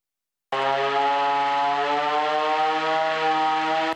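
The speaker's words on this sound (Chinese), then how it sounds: "转动警报器" A rotating siren at a restored historic police station from the Japanese colonial era sounds alone, loud and steady, starting abruptly and holding a continuous wail for about three and a half seconds.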